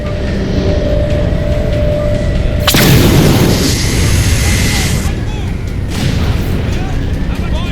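A large explosion slams into the Mammoth vehicle in Halo 4, a loud sudden boom with a long roaring rumble and a second blast later, set against ongoing combat noise and radio-style voices.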